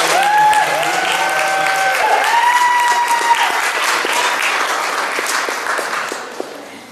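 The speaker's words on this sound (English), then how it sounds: "Please give Ethan a huge round of applause for playing." Audience applause at a school talent showcase after a performance, a full, loud round of clapping that holds steady, thins out and fades near the end, with some voices and whoops in the crowd.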